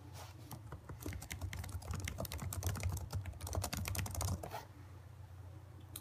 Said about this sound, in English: I apologize for typing.